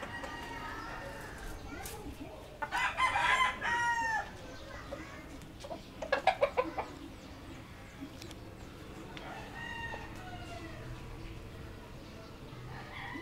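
Chickens cluck and squawk in two loud bursts amid a quiet room, with faint background chatter and bird sounds throughout.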